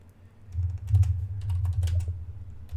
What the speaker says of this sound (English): Now what I can do is I can type in a question like,